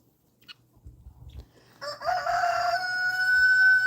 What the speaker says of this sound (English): all the chickens are hanging out down here